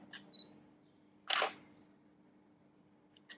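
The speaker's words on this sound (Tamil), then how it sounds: "இப்போ நான் வந்து அப்பர்ச்சர் 8ல வச்சு ஒரு ஃபோட்டோ" A DSLR camera shutter fires once in a quiet room, a single crisp mechanical click-clack up close, with faint small clicks before and after it.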